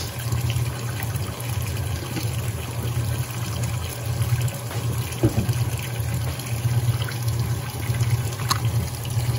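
Water steadily pours into the drum of a Brastemp Ative BWL11 washing machine during its fill, a continuous low rushing and trickling hum that holds even and moderately near without any voices.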